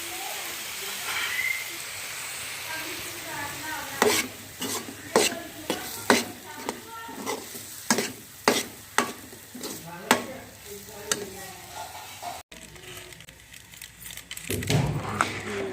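Gajrela, a carrot halwa cooked down from milk, is stirred and roasted in a pan, with a steady sizzling hiss under a run of sharp, rhythmic spoon scrapes that come every second or so. The scraping is close and clear and briefly pauses near the end.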